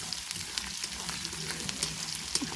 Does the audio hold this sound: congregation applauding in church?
no